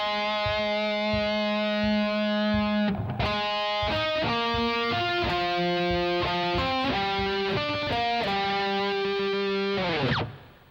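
Heavily distorted electric guitar plays a lower harmony lick, starting from a held low note into a run of quick, picked melodic notes, loud and up close, cut off at the end.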